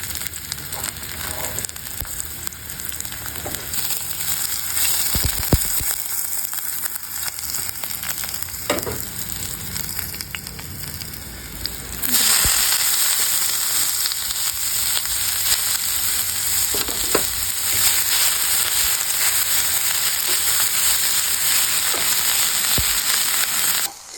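Green chilies and garlic sizzle in oil on a gas burner during backyard outdoor cooking. The crackling turns suddenly louder and fuller halfway through, then holds as a strong, continuous sizzle with occasional stirring knocks and no voices.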